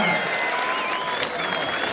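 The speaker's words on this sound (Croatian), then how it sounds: "ajmo jedan veliki aplauz" An audience of about three thousand applauds at a European championship boxing night, with steady close clapping running throughout alongside a voice talking over it.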